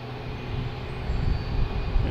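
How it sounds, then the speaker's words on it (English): A Cessna Citation business jet rolls down the runway at Boston Logan Airport, its steady low engine roar holding at moderate distance and swelling slightly throughout, with no voices over it. "we have a Cessna Citation heading down the runway"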